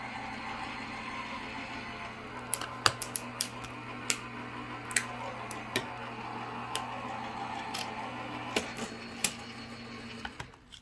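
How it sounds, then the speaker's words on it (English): A Gemini Junior die cutting machine runs with a steady low motor hum, punctuated by scattered sharp ticks and clicks as it works, fairly quiet and close, with no talk. "I'm going to go ahead and put this through my Gemini Junior cutting machine."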